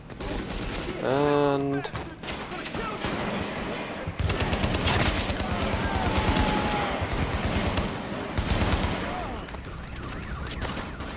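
Gunfire in The Division video game: sustained automatic bursts and rapid shots crackle loudly across the scene, with a brief rising electronic tone early on and a voice speaking briefly.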